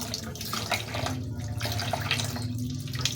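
Tap water runs steadily into a kitchen sink while dishes are washed, a continuous close splashing flow with small shifts as hands and items move under the stream.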